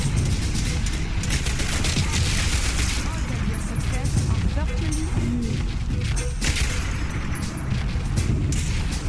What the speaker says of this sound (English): we had a grenade launcher guy